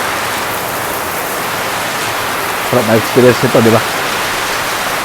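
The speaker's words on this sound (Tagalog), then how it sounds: "tapos umuulan, ganyan kalakas, kumukulog, kumikidlat" Heavy rain pours down in the countryside of the province as a steady, dense wash of noise, with someone briefly speaking over it partway through.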